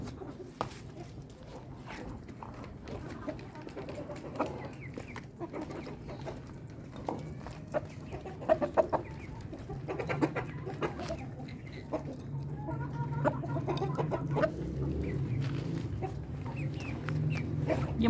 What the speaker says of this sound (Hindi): ये मुर्गियाँ खा रही हैं।